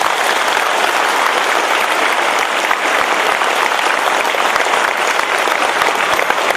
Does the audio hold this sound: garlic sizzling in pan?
no